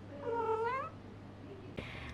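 A pet cat gives a drawn-out meow near the microphone, followed by a brief soft rustle or tap, in a quiet indoor room.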